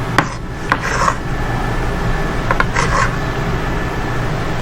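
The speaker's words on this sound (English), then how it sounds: "Looks like Grandpa's knife needs a little sharpening" Grandpa's kitchen knife is sharpened in a few quick, close rasping strokes, grouped in two short bursts over a steady background hum.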